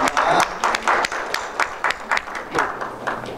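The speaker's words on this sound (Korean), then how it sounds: "우리 박수로 감사와 존경을 부탁드립니다." Applause from an audience at a theology lecture, a dense wash of clapping with uneven bursts and a few louder claps standing out, fairly close.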